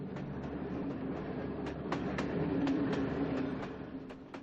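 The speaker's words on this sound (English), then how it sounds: "gypsies have to travel every weekend on a special black train" Rumble of a crowded weekend passenger train running from the Hungarian countryside to Budapest on a seven-hour ride, with a steady low drone and evenly spaced clicks from the wheels passing rail joints.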